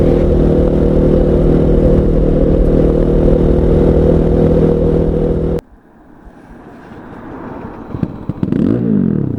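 Fantic Caballero motorcycle engine running loud and close with a steady throbbing note that cuts out abruptly partway through, followed by quieter clatter and a brief rising whine near the end.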